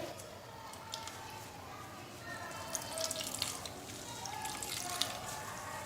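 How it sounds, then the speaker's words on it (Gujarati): Soft trickling and dripping of liquid, faint and close, as water squeezed out of grated raw mango runs out in a light, uneven stream. "છીણમાંથી આપણે બધું જ પાણી નીચોવી લેવાનું છે"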